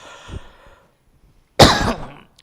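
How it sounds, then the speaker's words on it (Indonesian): A single firm throat clearing bursts out loud and close after a faint earlier rasp and a moment of silence, with no talk around it. "Jadi berdehamnya enggak usah keras ya, sedang itu."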